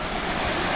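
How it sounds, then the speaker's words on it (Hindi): A mountain stream pours down from above beside a path near wooden houses in a Himalayan village, a steady, dense rushing wash filling the whole moment. "ऊपर से पानी आ रहा है।"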